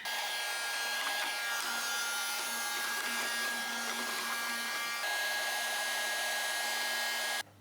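A serger sewing machine runs steadily at high speed, a close, continuous whirring motor drone with a faint rhythmic chatter, ending abruptly as it stops.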